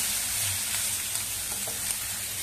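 Roasted cluster beans (guar) crackle in a masala of crushed green chilli paste in a pan, making a dense, continuous frying hiss at close range with faint stirring scrapes.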